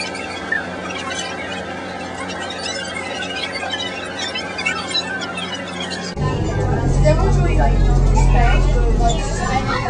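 City bus squealing, a high brake squeal over background chatter and murmuring voices, then a louder, deeper engine rumble as the bus moves off.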